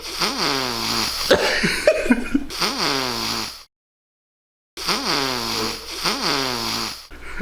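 A sick person breathes noisily through a badly clogged nose, with loud, close snorting and rattling breaths in a rough rhythm. One silent pause falls midway before the wheezy snuffling resumes.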